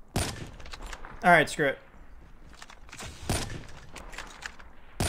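Gunfire in Call of Duty Mobile on the Alcatraz map: a few sharp, isolated shots crack out between stretches of quieter game noise, with a player talking between them.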